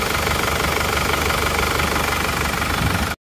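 A worn Isuzu Panther diesel engine with a compression leak runs close by with a loud, steady, rough knocking clatter, then cuts off abruptly at the end.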